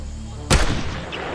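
A film scene gunshot sounds as a single loud, sharp blast with a booming low tail that fades over a second.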